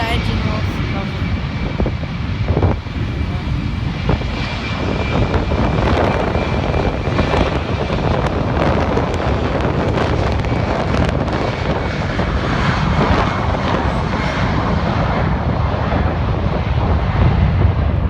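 Embraer 190 jet taking off at London City Airport in gusty weather, a loud, steady roar of engines building over the whole stretch, mixed with wind buffeting the microphone.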